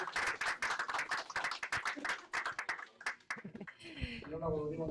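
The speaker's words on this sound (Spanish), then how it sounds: "Ahora, sí, un aplauso para los panelistas." Audience applause for panelists at a Spanish-language political discussion, a burst of individual claps close by that thins out after about three seconds, followed by a voice speaking alone.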